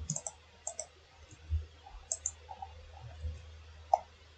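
Sharp computer mouse clicks, single and paired, sound at an irregular pace during Rhino 3D architectural modeling work, close and fairly quiet over a faint low hum.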